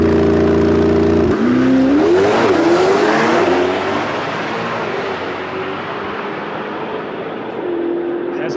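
A Chevrolet Corvette ZR1X production car accelerates hard on a track in the morning, its engine note climbing loud and close, then fading into a broad roar as it pulls away.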